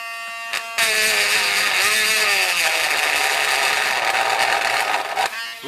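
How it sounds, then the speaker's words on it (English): A Drill Master rotary tool from Harbor Freight, fitted with a grinding stone, grinds into plastic with a loud, steady high-pitched whine and buzzing rasp that holds for about five seconds, then cuts off abruptly. "It grinds into the plastic."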